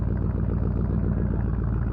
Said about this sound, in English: There goes the Ford pickup